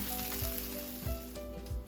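Steady frying sizzle of shrimp in a pan, a continuous crackling hiss with occasional low bumps, close and moderately loud, no voices.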